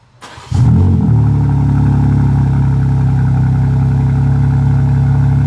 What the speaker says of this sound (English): you heard the cold start